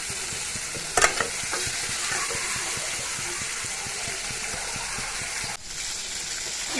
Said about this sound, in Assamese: এনেদৰে প্ৰায় 1 মিনিট সময় ভাজি দিম মাছখিনি